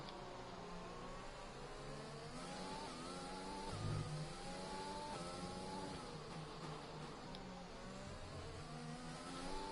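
F1 race car engine from a Formula 1 video game on a hot lap on medium tyres, a steady high-pitched whine that climbs and drops through gear changes across the lap, loud and continuous with a brief gruff burst midway.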